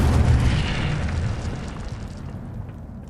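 A fiery burst from the Incendio spell in Hogwarts Legacy, a loud, low, rumbling boom that flares at once and then fades slowly under a sustained roar.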